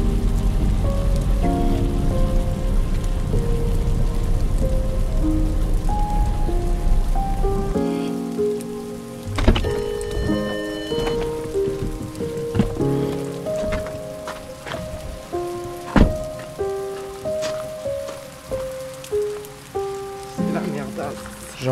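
Steady rain patters on a surface along a mountain road in the Savoie region, a dense hiss under a melodic musical backing that later gives way to scattered louder drops.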